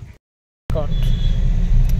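After a brief silence, a car engine starts abruptly and settles into a steady, low, close rumble that runs to the end.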